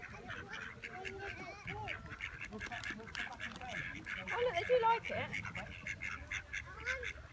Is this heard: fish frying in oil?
no